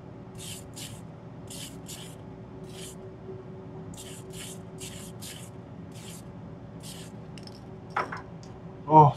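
A spray gun laying down clear coat in short repeated hissing bursts, evenly spaced, over a low steady hum, with a few clinks near the end.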